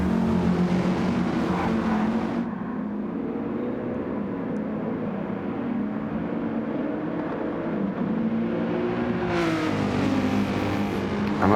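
Race cars in Gran Turismo 7 accelerate at a race restart, engines rising and droning loudly together, with a strong surge of revving at the start and again near the end.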